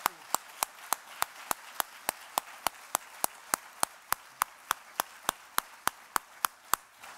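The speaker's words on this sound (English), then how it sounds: "Let's give our panelists a round of applause." Applause for the panelists at a public forum on prosecutors and public safety in St. Louis, heard as a clean, evenly spaced run of about two dozen sharp single claps, close and regular like one pair of hands in a quiet room.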